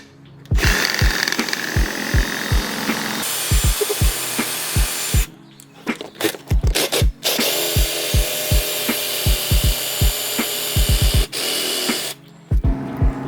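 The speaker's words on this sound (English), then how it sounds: "Once you have drilled through it pretty good" Power drill grinding through a BMW M3 throttle actuator part during a rebuild, a steady loud whine broken by rapid repeated low clicks and ratcheting bursts, with brief stops and restarts.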